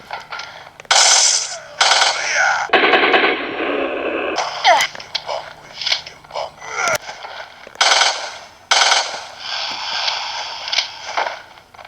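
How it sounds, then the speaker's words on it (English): A Matilda handgun fired in Resident Evil: The Mercenaries 3D, loud rapid bursts of shots repeating in quick clusters with brief pauses, mixed with other sharp game sound effects. "Now for the next handgun, the Matilda from Resident Evil 4."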